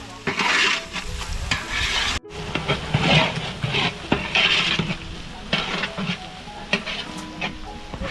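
Chillies sizzle and crackle loudly in hot oil for a village-style dal fry, a close, busy hiss with stirring scrapes and a brief cut partway through.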